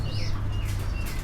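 Fancy blower-breed pigeons in a cage at a pigeon farm, a short close coo with soft chirpy tones over low background rumble.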